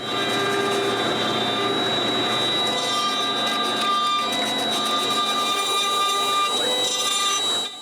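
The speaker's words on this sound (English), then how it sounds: "While the CNC is working, I fill the holes in that one." CNC router carving wood figures, a rabbit and Santa, producing a steady, loud machine whine with a constant high tone and grinding texture running throughout, no pauses.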